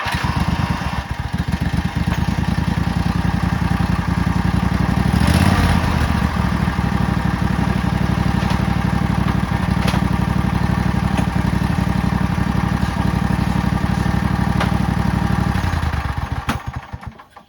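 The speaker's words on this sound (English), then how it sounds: "first test on the new V-twin on the pulley swap racing mode" A newly swapped V-twin engine on a racing lawn mower with a pulley swap runs loud and close, holding a steady rumbling roar with a brief surge near six seconds before cutting off at the end.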